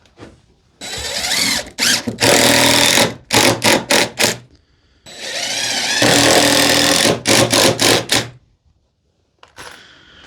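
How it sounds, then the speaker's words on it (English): A power drill drives screws into wooden bracing around a window of a hunting shack under repair, loud and close, whirring in several long bursts broken by short stuttering pulses and pauses. "So I'm just fixing it here with the screws a little bit"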